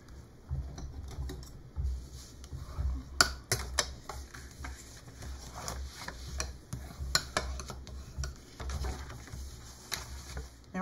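Scored cardstock being folded and burnished by hand for a Mother's Day purse stationery holder, giving soft scattered creases and a run of sharp ticking rubs and taps, close and fairly quiet, with no talking.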